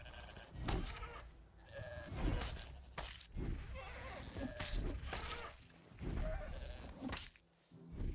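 A stampeding herd of goats in the medieval survival game Pax Dei, a steady string of overlapping bleats in quick bursts, close and fairly loud.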